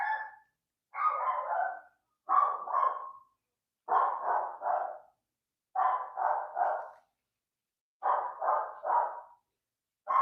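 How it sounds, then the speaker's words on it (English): A dog barks in short clustered bursts, usually two or three quick barks at a time, separated by pauses of silence, close and fairly loud with nothing else audible. "if y'all can hear my dog, I apologize"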